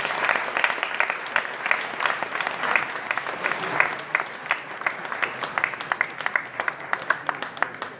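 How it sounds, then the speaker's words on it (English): An audience at a Ward 1 mayoral debate applauds the candidates, a loud, sustained burst of many hands clapping that holds steady for several seconds, individual claps growing more distinct and sparse toward the end. "let's give them a round of applause"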